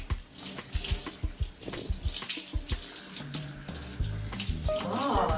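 Water runs from a tap to wet a dog during bath time, a steady close splashing flow broken by irregular thuds and knocks, with a brighter gush near the end.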